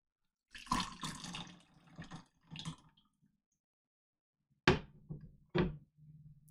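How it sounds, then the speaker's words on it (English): Tap water runs in short bursts at a sink, a longer gush followed by a few brief splashes and faint clatter, close and fairly quiet with no talking. "I'm actually going to give that a rinse."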